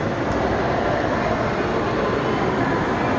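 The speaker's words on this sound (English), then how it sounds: "Look at the other trains going." Model trains run in an exhibit at the Chicago Museum of Science and Industry, giving a continuous, fairly loud rumbling and rolling drone with no breaks and no voices.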